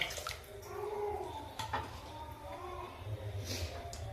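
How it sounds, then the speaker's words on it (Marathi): Water is poured into a pot of kadhi, a spiced yogurt curry with whisked curd, during cooking, giving a steady moderate splashing and trickling wash that lasts the whole few seconds with faint kitchen clatter. "आता मी त्यामध्ये गरजेप्रमाणे पाणी ॲड करणार आहे"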